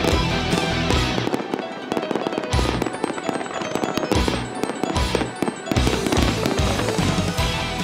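Holiday fireworks show at an East Coast city center in December, with dense rapid bursts and crackling pops going off continuously and loudly, layered volleys filling the whole stretch with no talk.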